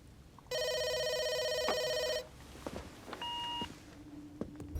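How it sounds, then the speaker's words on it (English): Electronic telephone ring for an incoming call: one long sustained tone burst, then a shorter repeated beep a moment later, over quiet room sounds and faint footsteps. "there's an incoming phone call from Washington, D.C. for Trainer Styles"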